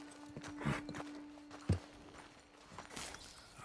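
Horses' hooves in the video game Red Dead Redemption 2 clip-clop slowly on firm ground, a few scattered, fairly quiet steps over a low steady hum.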